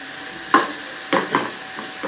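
Onions frying in a pan until golden, a soft steady sizzle under several louder bursts of hissing and scraping as they are stirred, close and moderately loud.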